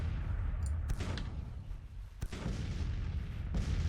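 Artillery fire from 12-pounder howitzers in the Civil War strategy game Grand Tactician: a few sharp distant booms, one near 0.9 s and a stronger one around 2.2 s, over a steady low rumble of battlefield ambience.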